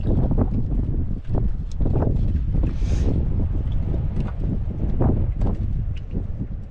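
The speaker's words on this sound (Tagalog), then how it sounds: "Lakas na maramdam ng hangin ng amihan mga idol." Strong northeast monsoon wind buffets the microphone in heavy, rumbling gusts, loud and continuous, with brief bumps and rattles in between.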